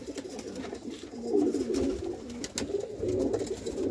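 Pure pigeons cooing in low, rolling throaty phrases that swell and fade, close and steady with faint background clatter.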